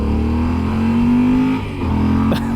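A 2015 Yamaha Super Tenere motorcycle accelerates hard, the engine note climbing loud and close for about a second, then easing off before it picks up again.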